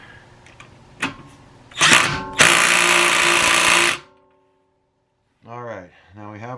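Bauer 3/8 inch impact wrench reinstalling a bolt: a short buzz, then a loud sustained whir of about two seconds, followed by quiet and a voice speaking.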